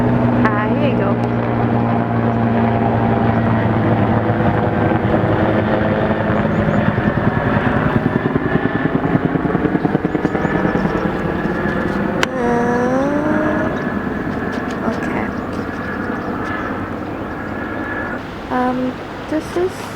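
Loud, close rotor and engine drone of a helicopter flying nearby on a nature walk, a steady broadband roar that fills the whole stretch with only slight swells, joined by a brief rising tonal whine partway through.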